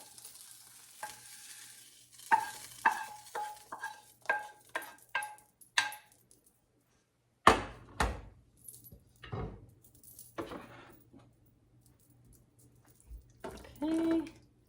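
Onions tipped into a pot for pasta fagioli soup, stirred with a spoon clinking against the sides, then a louder burst of sizzling and scraping near the end, with some quiet background noise.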